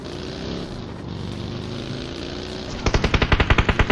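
Automatic gunfire in PUBG, a rapid burst of a dozen evenly spaced loud shots that cuts in after a steady engine-like drone, with no talking.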